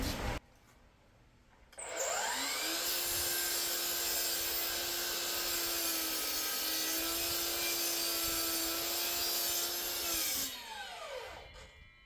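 A sliding chop saw kerf-cuts a board of wood: after a brief low start, the motor spins up and the blade grinds through the cut in one loud, sustained, close whine for about eight seconds, then winds down, with no talking.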